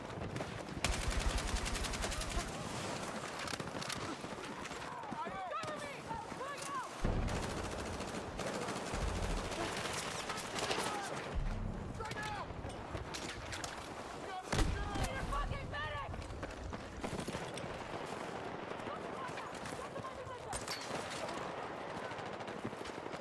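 Automatic gunfire from a video game gun fitted with attachments, repeated bursts of rapid shots spread through the clip, moderately loud, with people talking over and between the bursts.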